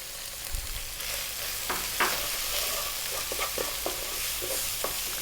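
Turmeric, cumin, chili and coriander powders frying in a pan for a fish curry, a steady close sizzle with soft scraping stirs and light clicks throughout.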